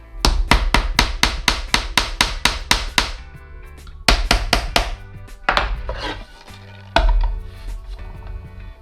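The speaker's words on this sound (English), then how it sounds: "Get my crazy Japanese hammer" A Japanese hammer taps wooden dowels into place in a steady series of sharp, loud strikes, about a dozen in quick succession, then another burst after a brief pause, followed by a few slower, heavier blows.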